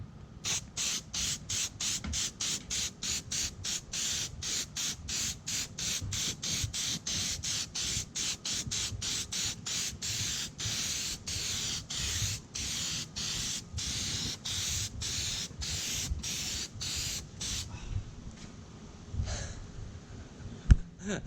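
Second coat of headlight restoration coating sprayed onto a BMW Z3 headlight, a rapid series of short, loud aerosol hisses in steady rhythm for about seventeen seconds, then quiet.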